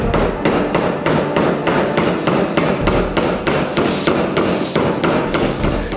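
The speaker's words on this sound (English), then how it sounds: "you're going to tap it through with a hammer" A hammer taps a wooden dowel peg through a hole to size it into a fake bolt, making sharp, loud, evenly spaced knocks, about two per second, close up and with no voices.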